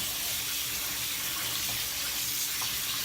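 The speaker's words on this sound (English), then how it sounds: "I'm just gonna rinse it over here so that any loose skin" Warm tap water runs steadily into a sink while an octopus is rinsed under it, a constant close hiss and splash with no talking.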